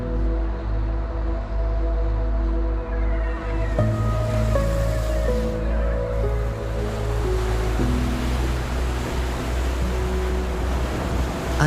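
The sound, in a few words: sea waves at the coast in Zhuhai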